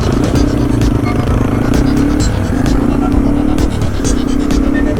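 A Yamaha TW200 dual-sport motorcycle rumbles along steadily on a desert ride in Lucerne Valley, with a close, loud engine drone and rising-and-falling revs as it shifts, plus light clattering over the terrain.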